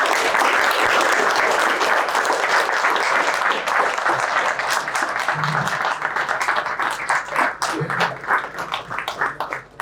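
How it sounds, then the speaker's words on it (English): An audience of exam candidates at a gathering breaks into loud, sustained applause, the clapping thinning out toward the end. "So huge clap to you,"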